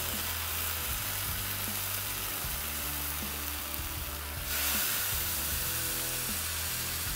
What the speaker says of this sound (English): take a corn tortilla, dip it into our birria sauce, get it nice and covered on both sides, take it to the griddle